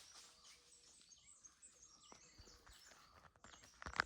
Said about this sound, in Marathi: हे बघा चिमण्यांचा आवाज.